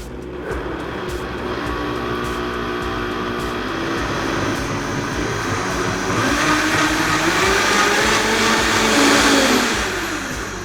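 A blender whirs loudly and continuously while blending a hot drink, its motor pitch shifting as it churns, growing slightly louder toward the end before winding down.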